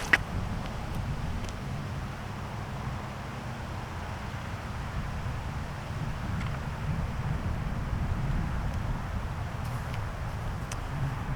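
Wind buffeting on an open disc golf course, a steady low rumble of gusts across the microphone with faint higher hiss throughout, alone without talk.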